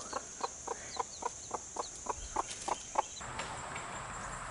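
A very small hen with her single tiny chick, giving a steady series of soft, evenly spaced clucks close by, about a dozen in a row before trailing off into quiet outdoor background.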